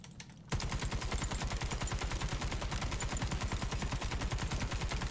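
Sustained automatic weapon fire in Warface, a fast steady stream of loud close shots running for several seconds after a brief quiet start, with no talking.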